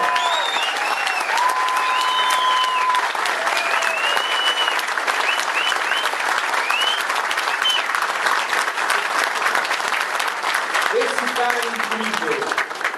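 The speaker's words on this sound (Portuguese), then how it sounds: "meu amigo Aido José Bertual, uma salva de palmas." A crowd at a political party convention keeps up loud, dense applause that runs unbroken throughout, with whistles and cheers mixed in.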